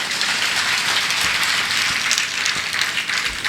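A large gathering at a Jain religious discourse claps hands together in a steady, dense wash of applause, with a few sharper individual claps standing out near the front.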